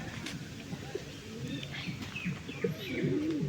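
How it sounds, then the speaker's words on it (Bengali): Pigeons coo softly and repeatedly at close range, with a few faint chirps mixed in, continuing steadily throughout. "আমি নিয়ে আসতাম কবুতর কারণ আমি একজন কবুতর প্রেমী"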